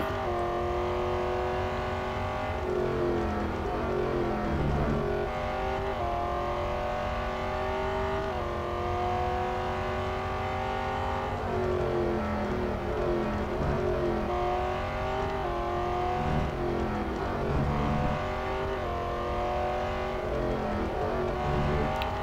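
Jaguar F-Type SVR engine in the Real Racing 3 mobile racing game around the Melbourne circuit, a steady loud drone with repeated rising revs and gear-shift drops throughout, alone without talk.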